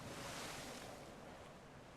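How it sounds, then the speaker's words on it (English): Ocean surf rolling in along a shore in Guild Wars 2, a soft, continuous wash of waves mixed with faint wind noise, with no voices. "waves here are really loud"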